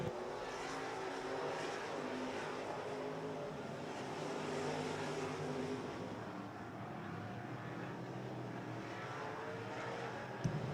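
Race cars roar around the RPM Speedway track in a steady, distant blended engine drone, faint and continuous with no pauses.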